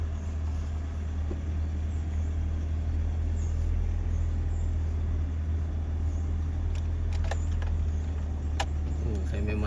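An ordinary car climbs a short, steep hill of about 11% grade near a hillside campsite in Gerik, its engine a steady low drone throughout, with faint background sounds and a few brief clicks toward the end.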